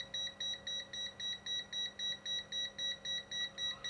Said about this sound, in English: That's quite an annoying beep.